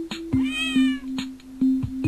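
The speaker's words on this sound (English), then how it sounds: "Don't meow." Cat meowing in a Christmas flash video game: a few close, loud meows with short percussive game sounds between them and no talking.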